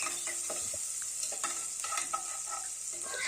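Chopped onion, ginger and garlic sauté in hot oil and ghee in a cooker, giving a steady soft sizzle with scattered crackles and stirring scrapes at close range.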